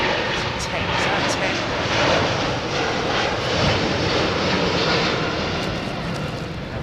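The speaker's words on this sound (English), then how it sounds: "Dreamliner." A Boeing 787 Dreamliner at Heathrow Airport gives a steady, broad jet roar at moderate distance, holding fairly even throughout with no clear voices.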